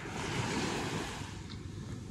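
Sea waves wash continuously onto the beach at Infanta, a steady broadband surf roar mixed with wind buffeting the microphone.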